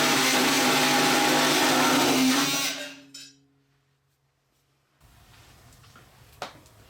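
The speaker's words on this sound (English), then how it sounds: "we're going to cut that 5x5 hole in the opposite end of our jointer" A power tool cuts a 5x5 hole into the end of a wood jointer with a loud, steady whine. It spins down and stops after about three seconds, and a quiet pause with a faint click follows.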